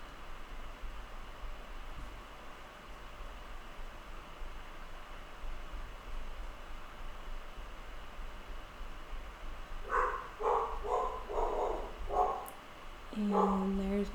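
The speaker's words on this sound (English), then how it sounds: "And there's my dogs saying hi." A Pit Bull and Australian Shepherd mix barks indoors in a short cluster of several sharp barks near the end, with a final deeper bark, over a steady background hiss.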